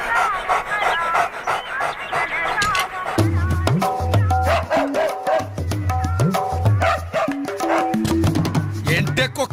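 A dog in a film comedy scene pants and gives whimpering yips against a musical score with a bouncing bass line, heard close and fairly loud throughout.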